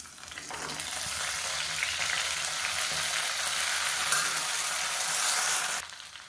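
Spices crackle and splutter in hot oil during vegetable biryani preparation, a loud, steady sizzle filling the whole stretch before cutting off near the end.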